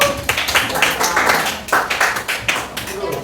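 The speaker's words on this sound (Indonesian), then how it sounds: "tepuk tangan buat hadiah" A high school classroom of students clapping hands together, several uneven bursts of claps close by, with some talk mixed in.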